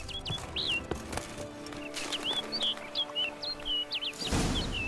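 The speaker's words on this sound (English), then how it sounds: "Looks like the bird's leading me somewhere." Bird calls in The Witcher 3 chirp repeatedly in short, bright tweets over a soft outdoor ambience, with faint hoof-like clops beneath and a burst of rustling noise at the end.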